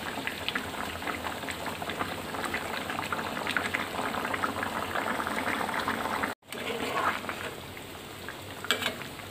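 Chicken curry with papaya simmers in a covered pot, giving a steady bubbling, crackling hiss throughout with a brief dropout partway.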